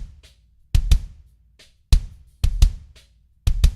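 Layered kick drum built from combined samples in a Logic Pro drum mix, punching in loud close hits, often in quick pairs, with a softer kit pattern between them and no talking.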